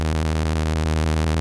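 Bright, buzzy saw wave synth patch in Pigments playing a steady, rapid run of 16th notes at one even loudness, alone with no voices.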